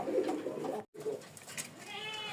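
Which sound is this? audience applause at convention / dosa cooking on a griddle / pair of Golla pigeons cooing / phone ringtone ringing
pair of Golla pigeons cooing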